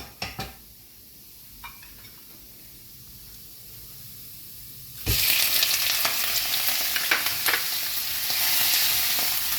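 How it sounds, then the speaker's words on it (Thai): Shrimp for fried rice hit a hot pan. A quiet low simmer jumps to a loud, steady sizzle halfway through, with a few utensil clinks and stirring scrapes, and no voices. "เราจะเริ่มใส่กุ้งแล้วนะครับ"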